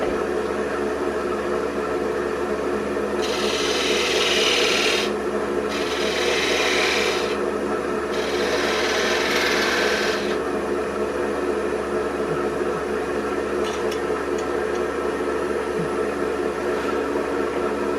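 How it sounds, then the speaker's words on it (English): A small skew chisel cuts concentric grooves into a wine glass stem on a wood lathe, three rasping scrapes of a few seconds each over the steady hum of the spinning lathe, close with no talk. "make a series of grooves in that, concentric grooves with a small skew chisel"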